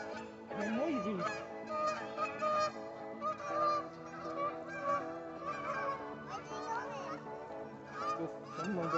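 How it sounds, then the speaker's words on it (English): Geese at a lake in the Lodi Lake Nature Area honk in a noisy, continuous chorus close by, many overlapping calls, with faint voices of people and children underneath. "Look at the geese, Fan."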